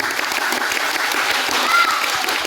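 Steady applause from a crowd at a school JS prom, filling the whole stretch evenly with a dense patter of hands, with faint voices mixed underneath.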